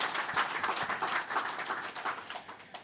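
An audience at a Caribbean leadership forum applauds its partners, a dense, even wash of clapping that holds for a few seconds and tapers slightly at the end.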